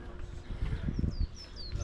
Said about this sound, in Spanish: Eso es una cría de pajaritos llamando a su mamá, creo yo.